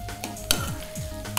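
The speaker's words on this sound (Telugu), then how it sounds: "ఇప్పుడు బెండి యాడ్ చేసేసుకొని ఆల్రెడీ ఫ్రై చేసింది ఒకసారి ఉల్లిపాయల్లో కలిపేసుకుందాం" Sliced okra mixed into onions frying in a pan for a coconut-milk okra curry, gentle sizzle under a few scraping stir strokes and a sharp clink, close by, no talking.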